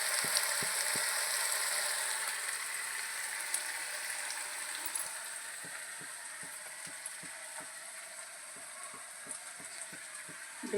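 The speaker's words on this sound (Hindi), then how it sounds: "की सब्जी हम इनके लिए छौंक दें।" Vegetable curry gets tempered in a hot pan, producing a steady, moderately faint sizzle and hiss, with light clinks of stirring scattered through it.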